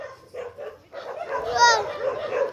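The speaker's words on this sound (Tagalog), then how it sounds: "Lakas ng tahol nila" Dogs bark loudly and repeatedly at close range, with yips mixed in, while people shout and talk over the noise.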